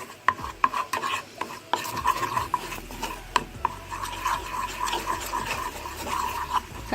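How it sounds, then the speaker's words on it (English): Steady whisking and stirring of a vegan Easter bun mixture in a bowl, a close, busy scraping rhythm of repeated strokes running throughout with no talk. "Now we're gonna give this a whisk. Stir it in guys, and allow it to come together as one"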